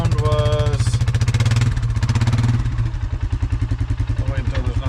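A Kubota machine's engine exhaust runs close by in New Hampshire dirt work, a steady loud low rumbling drone with a chugging pulse throughout, with speech partly mixed over it.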